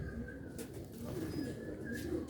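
Low, soft cooing from a prized Sialkot old-breed green-beaded pigeon, repeated calls over a steady background hum, close by.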